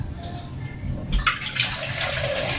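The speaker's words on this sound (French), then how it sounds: "donc là je vais arroser mes petites plantes" Water poured onto small potted plants, a steady splashing trickle running through the clip with a brief louder gush midway, close by and with no talking.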